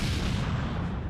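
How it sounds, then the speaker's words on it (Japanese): A rumbling explosion in the video game Dragon Ball Z: Kakarot, a dense, steady low boom that fills the whole moment with no voices over it. "なんだ今の爆発は。"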